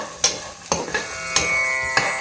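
Groundnuts roasting in a pan over a low flame, steady quiet sizzle broken by four distinct scraping strokes of a spatula stirring the nuts, heard up close with no voices.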